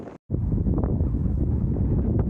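Wind buffeting a microphone on an exposed hilltop in the Forest of Bowland, Lancashire, a heavy low rumbling roar after a brief dropout at the start, loud and unbroken, with no speech.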